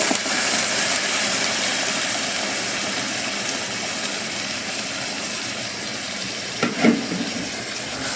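Tomatoes hit a hot pan of zucchini and meat, giving a steady soft sizzle and hiss that runs throughout, with a brief louder clatter near the end.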